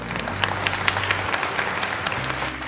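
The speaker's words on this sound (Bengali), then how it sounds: "এটা জোরে হাততালি হোক।" A studio audience on a TV quiz show breaks into loud, sustained applause, a dense patter of many hands clapping, with a low hum running beneath it.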